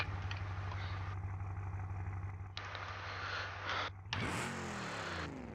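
A Gavril 5.5-liter V8 in the Soliad Spica, a Foxbody-style car in BeamNG.Drive, idles with a steady low rumble. The engine note shifts abruptly partway through as the sound changes.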